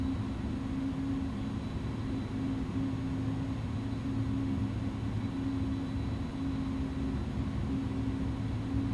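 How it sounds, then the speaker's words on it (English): Steady, sustained jet engine drone of an Inibuilds A310-300 in Microsoft Flight Simulator as throttle is added on the runway, a continuous loud hum with a constant low tone and broadband rush, no voices. "I'm gonna give a little bit of throttle to cross the runway and get to the other side"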